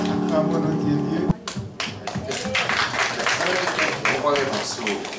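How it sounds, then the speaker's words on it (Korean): A congregation in a French-language church service breaks into applause after a sung refrain, scattered claps building into a loose ripple while a voice speaks over it. "영광의 박수 올리겠습니다."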